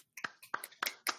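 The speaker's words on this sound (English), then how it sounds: "If we could give her a round of applause." At the end of an online talk, a small audience gives sparse applause: a few sharp, close hand claps in quick, uneven succession with no voices.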